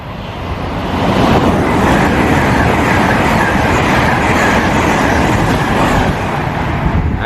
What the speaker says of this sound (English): fast train passing through